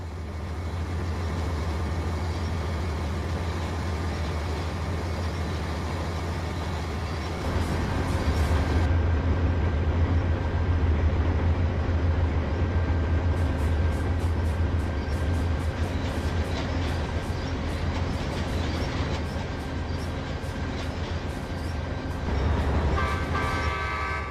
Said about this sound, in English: As Marie was arriving in Toronto with the Canadian, she saw JP.